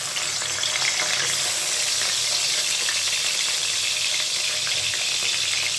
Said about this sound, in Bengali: এরপর মাছটাকে আমি ভেজে নেব